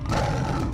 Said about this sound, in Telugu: అవి పులి గాండ్రింపులే.